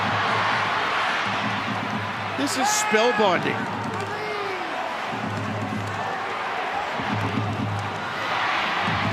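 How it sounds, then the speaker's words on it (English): Stadium crowd roaring at an NRL rugby league finals match, Raiders versus Broncos in extra time, a dense sustained wall of noise that swells briefly, with a commentator talking over it throughout. "Listen to the crowd."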